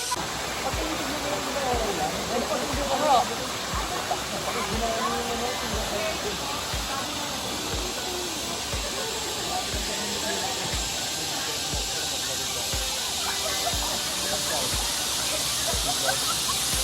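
Clear water of the Maligha River in Zambales flows below in a steady broad rushing hiss, continuous and fairly loud, with faint voices in the background.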